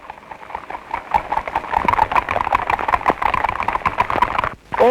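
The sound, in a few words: horse hooves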